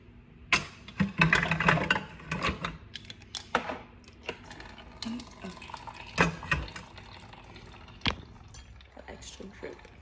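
A coffee maker brewing and dripping in a kitchen, with gurgling, trickling liquid, clatters and clicks of dishes over a steady hum, close up and fairly loud.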